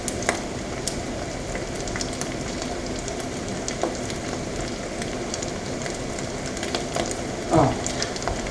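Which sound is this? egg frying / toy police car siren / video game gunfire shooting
egg frying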